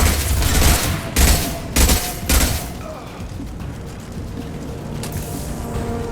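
Gunfire rattles during a firefight against Blue Suns and Vorcha on Omega in Mass Effect 2, with heavy bursts in the first few seconds and then fading to scattered distant shots and a soft ambient hum.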